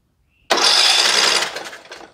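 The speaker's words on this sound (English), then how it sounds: "let's crank this engine over now and see if she'll spin over" A Briggs & Stratton small engine, checked for a no-start with a suspected hydro-lock and compression-release valve problem, cranks over in one loud, sustained whirring burst that starts abruptly, holds about a second, then trails off.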